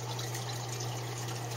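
Water runs continuously through an aquaponics bell siphon tube, a steady close gurgling rush with a low constant hum underneath, and no voices.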